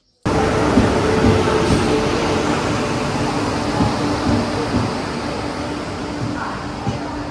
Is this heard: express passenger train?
yes